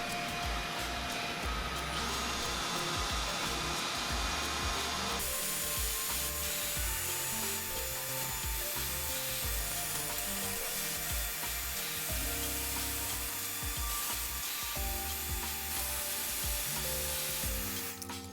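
A power sander works a clear slow-cure resin piece with a continuous whirring, rasping hum that shifts in tone as the pressure changes, close and steady with no talk.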